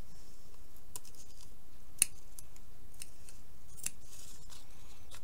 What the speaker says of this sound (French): Et là on va couper juste là.